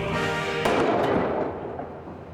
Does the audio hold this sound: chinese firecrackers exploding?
yes